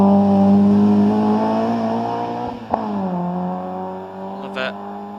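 A Peugeot 106 GTI race car climbs a hill climb course at the Midland Automobile Club, its engine holding a loud, steady high-revving note with one sharp click partway through and a slight pitch change near the end.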